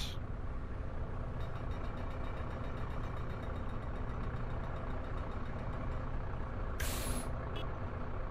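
A Neoplan Skyliner double-decker coach in a driving simulator releases an air brake hiss, a brief sharp burst near the end over a steady low engine drone, with faint repeated ticks throughout.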